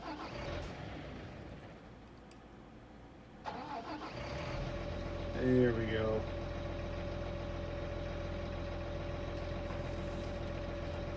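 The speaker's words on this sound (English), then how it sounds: "Not a bad sounding tractor." An older John Deere tractor engine cranks, catches and settles into a steady, droning idle that keeps going after the start. Someone speaks briefly as it fires up.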